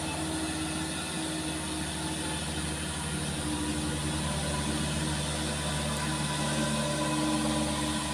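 A diesel truck loaded with iron accelerates hard up a steep incline, its engine roaring loud and constant throughout with a heavy low drone.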